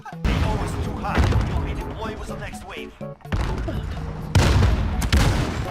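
Rapid bursts of Uzi submachine gun fire in Call of Duty, loud and close, crackling in dense volleys across the whole stretch while players chatter excitedly over the shooting.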